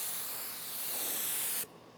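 A spray gun atomizes car primer thinned with reducer, giving a steady loud hiss that runs continuously and then cuts off abruptly near the end, leaving quiet room tone.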